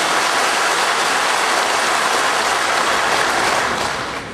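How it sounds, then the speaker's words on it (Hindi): Large audience at a World Toilet Day political speech breaking into sustained applause, a dense, loud wash of many hands clapping that holds steady and then begins to fade at the end, with no voices heard over it. "ताली बजा करके इसका समर्थन करिए"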